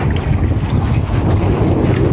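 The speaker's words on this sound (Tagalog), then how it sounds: "Grabe, big, bigla lang yung hangin." A sudden strong wind at sea buffets a traditional Filipino fishing boat, roaring loudly and steadily with heavy low rumbling gusts against the microphone and no talk.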